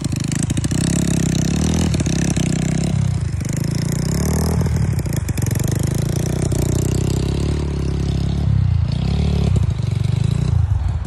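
A Kawasaki KLX 300 dirt bike rides off-road in first gear, its engine loud and close with a steady buzzing drone that surges and dips as the throttle changes, along with some rattling and scraping.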